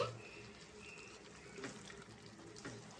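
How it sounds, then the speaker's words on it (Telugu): Water splashes and runs steadily into a pan of prawn and tomato curry, a soft continuous pour with a few brighter splashes, fairly quiet and close. "ఇప్పుడు దీంట్లో కొంచెం వాటర్ వేసుకుందామండి"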